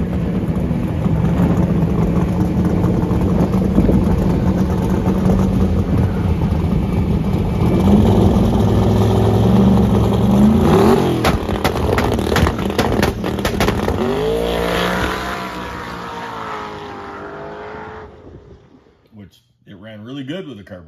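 A turbocharged small-block engine fed by fuel injection and a carburetor roars steadily close by, then revs up and falls away and cuts off near the end, with voices talking over it.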